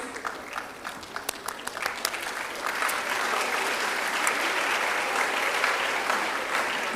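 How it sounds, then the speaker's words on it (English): An audience claps for an award winner at a memorial lecture and award ceremony. Scattered claps quickly swell into steady, full applause from a large crowd that holds for several seconds. "This is not a small award. Clap for her."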